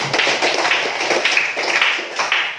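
Close, busy hand clapping from schoolchildren in a classroom lesson, a brisk mass of claps with slight surges in rhythm, filling the short stretch.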